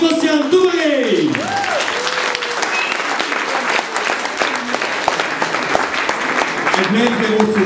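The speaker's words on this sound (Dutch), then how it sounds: "maak een applaus voor Michiel Sebastian Doré!" Applause from an audience welcoming a pianist at an Easter school showcase, thick and continuous, with cheering voices and a shout rising over it near the start and again at the end.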